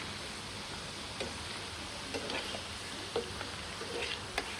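French fries bubble and sizzle in hot oil over a high flame, a soft steady hiss with a few faint pops and light clinks and no voices.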